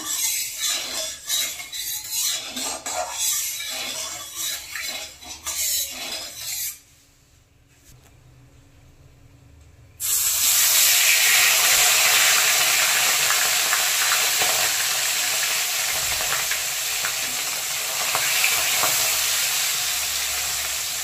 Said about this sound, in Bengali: তাজা মাছ হলে মাছটা খুব ফাটে